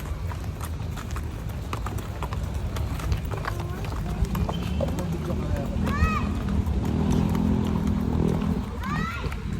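A horse pulling a cart at Wright Park clip-clops steadily on hard ground in a quick, even rhythm, with people talking and other outdoor sounds around it.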